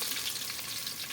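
Onion sizzling in hot oil, a steady dense crackle that holds loud and even for the whole moment, with no voices.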